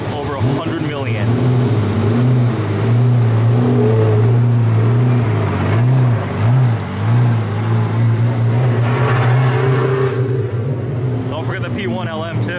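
Supercars including McLarens pulling away in a suburban Illinois street, with loud overlapping engine drones and revs rising and falling as the cars pass close by, and people talking through it.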